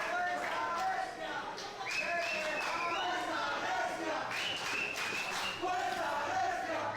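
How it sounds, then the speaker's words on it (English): A wrestling crowd at a live pro wrestling event cheers and chants for Fuerza Regia, a dense wash of shouting voices and whistles filling an arena, steady and fairly distant. "the crowd is really into Fuerza Regia right now"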